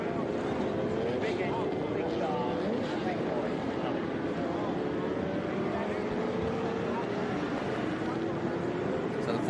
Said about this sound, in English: Big engines, big cars, big noise.